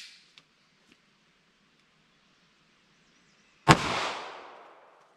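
A single sharp shot from a short-barrel .38 or 9mm handgun firing Underwood heavy ammunition over a chronograph rings out loud and close, then decays with a reverberant tail after a few faint clicks.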